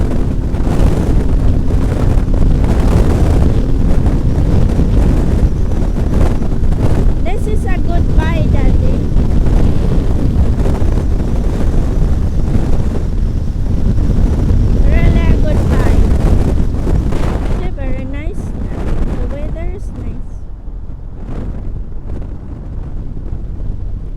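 Steady, heavy wind roar buffets the microphone throughout on a BMW R1250R motorcycle, heard from the pillion seat, with a rumbling engine beneath and faint tonal whines; the roar eases slightly near the end.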